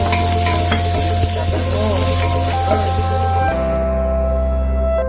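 Ginger goes into a pot of chicken soup with green leafy vegetables and papaya, raising a loud steady sizzle and stirring clatter with a low hum beneath, which cuts off abruptly near the end.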